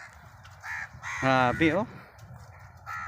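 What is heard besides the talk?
crows cawing while being hand-fed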